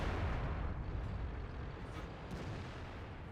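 AMX 50B tank cannon firing in World of Tanks, a loud low booming blast with a long rumbling decay that fills the whole clip.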